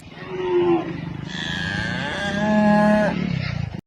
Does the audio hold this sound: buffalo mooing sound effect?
yes